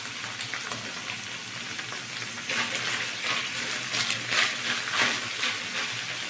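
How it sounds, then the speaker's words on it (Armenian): Carrots and beef fry together in a pan, a steady crackling sizzle that swells louder partway through with bursts of spattering, heard close with no talking. "Մսից հետո, որ բաղադրիչը, որ ավելացնում եմ, շատ քիչ ենք տապակում։"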